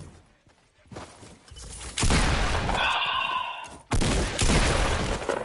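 Bursts of gunfire in a video game come in rapid, loud clusters, a brief gap separating them, with a fainter rattle and a high tonal whine between shots.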